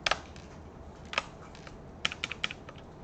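A computer keyboard being used for shortcuts produces a few close, sharp key clicks, a quick single press followed by a short cluster of taps against a quiet room.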